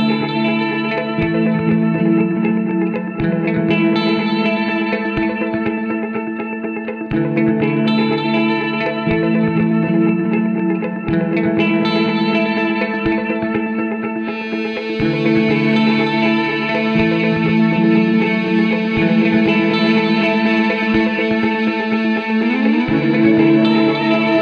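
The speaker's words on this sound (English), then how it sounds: "Crystal Delay is a unique type of delay that shifts the delayed sound, a pitch up, an octave that creates a shiny shimmering sound" Electric guitar played through a Flashback 2 delay pedal on its crystal setting, sustained chords trailing into octave-up shimmering repeats, loud and continuous with no talk.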